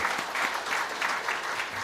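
Church congregation clapping in thanks during a Korean sermon, a steady burst of applause from a sizable crowd that swells in waves, fairly close and continuous with no talking over it.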